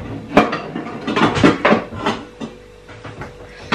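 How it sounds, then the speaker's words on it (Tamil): Saucepan pulled from a stack of stored pots and pans in a home kitchen: a burst of close metallic clanks and knocks, then a quieter shuffle and a final clink. "நம்ம அதில் வந்து சாஸ் பேன் மட்டும் எடுக்க போகிறோம்."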